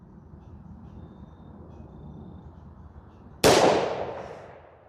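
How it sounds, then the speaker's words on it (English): A single sharp, loud gunshot from a .357 SIG pistol firing DoubleTap 125-grain controlled-expansion ammunition cracks out after a quiet outdoor background, then rings and fades over about a second. "That one shot really low."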